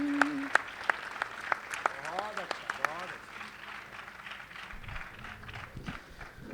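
An audience at a Hasya Kavi Sammelan in Kurukshetra applauds a poem of tribute to martyrs. A voice speaks for the first three seconds, then a steady, moderately loud burst of clapping takes over and runs to the end.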